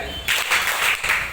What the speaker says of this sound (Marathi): एक टाळी, दोन टाळी,